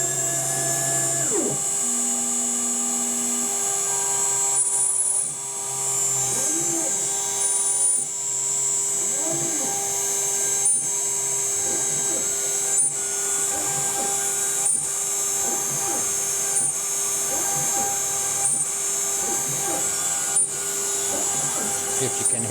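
A CNC router cuts a wooden jewelry box, its bit plunging into the wood with a loud, steady high-pitched whine and rough grinding pulses that recur through the cut. A voice talks briefly over the machine.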